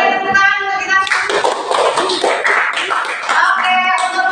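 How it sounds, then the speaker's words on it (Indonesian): An audience in a classroom presentation claps steadily for about four seconds, loud and close, following a brief spoken phrase at the start. "Oke, boleh tepuk tangan untuk kita."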